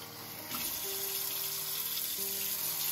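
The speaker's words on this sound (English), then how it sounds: "Add some water." Water pours steadily into a container of sprouting microgreens on day four of growth, a continuous close splashing flow that starts about half a second in and runs to the end without talk.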